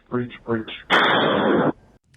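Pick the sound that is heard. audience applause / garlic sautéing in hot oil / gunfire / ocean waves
gunfire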